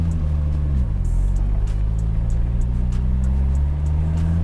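Nissan Skyline R33 built by Top Secret Japan pulls hard through first and second gear, a loud, steady engine note climbing in pitch, dipping briefly at the shift near the start, then rising again.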